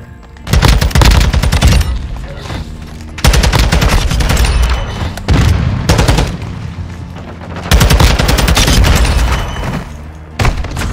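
Rapid automatic gunfire in the video game PUBG, loud, dense bursts of shots with booming impacts, three long volleys separated by brief pauses.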